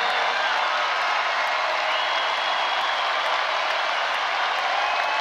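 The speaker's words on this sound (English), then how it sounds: "we should give him the most applause" A rock concert audience applauding and cheering, a thick continuous wall of clapping and crowd noise, loud and sustained from start to finish.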